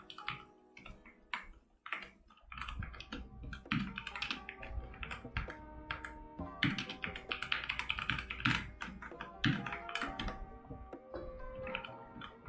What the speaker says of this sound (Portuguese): Vocês estão vendo que eu estou digitando